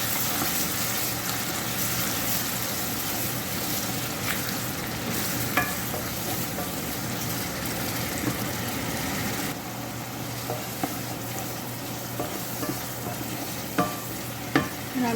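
Blended onion frying and stirred in a pan for cuttlefish sambal, a steady close sizzle with scraping stir strokes throughout and a few sharper clinks near the end.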